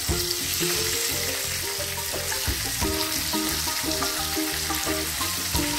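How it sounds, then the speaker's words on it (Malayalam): Chicken legs fry in hot oil and get turned over now and then, producing a loud, continuous close sizzle that holds steady from start to finish without any talking. "ഇടയ്ക്കിടയ്ക്കിട്ട് ഇങ്ങനെ മറച്ചും തിരിച്ചൊക്കെ ഇട്ട് വറുത്തെടുക്കണം."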